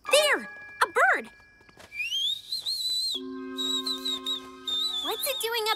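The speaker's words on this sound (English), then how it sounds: "There! A bird!" A cartoon bird call rings out as bright, rising whistled chirps and sustained tones, interleaved with short chirpy bursts and accompanied by background music.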